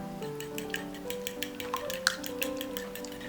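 A spoon scrapes and clinks around a bowl in quick repeated strokes while stirring a spice mixture with ground black pepper, with a steady background hum and no talking.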